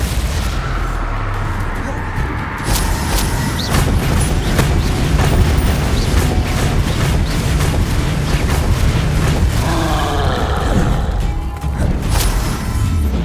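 Confringo fire-spell explosions in the Hogwarts Legacy video game make a loud, continuous barrage of booming blasts and crashes, layered with crackling debris and fiery rumble, dense and unbroken throughout a chaotic combat scene.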